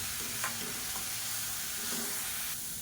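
Chopped onions for a wedding-style cabbage poriyal sautéing in a pan, a steady soft sizzle and hiss throughout with faint stirring scrapes now and then.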